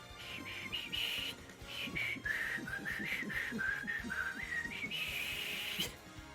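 A person whistles a wandering, melodic tune in a series of short bright notes, fairly close, with some low background noise and no talking.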